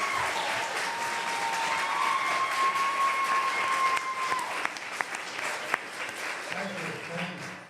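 An audience at a comedy conversation event applauds actors taking the stage, a broad wash of clapping and crowd noise that holds steady and then thins. A sustained tone runs through the middle.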